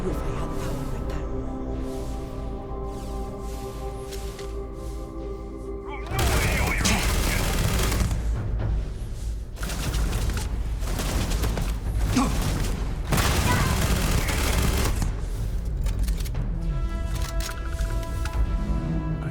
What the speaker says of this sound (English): This is from a weapons mod by Bub200. It's a plasma weapons mod or a creation.